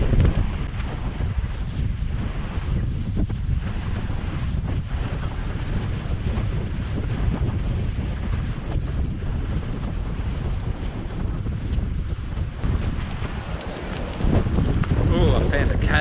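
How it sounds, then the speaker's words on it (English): Strong gusting wind at a coastal harbour in Boat Harbour, Tasmania, roaring steadily across the microphone as a loud broadband rush with a voice partly heard under it. "It's very bloody windy at Boat Harbour."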